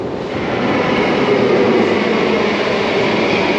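A metro train rumbles steadily through an underground station, a close, continuous roar with a slight swell before settling into an even drone.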